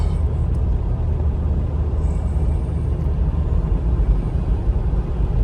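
A 2002 Jeep Grand Cherokee WJ with a replaced engine driving along, a steady low rumble of engine and road noise that holds level throughout, with no talking.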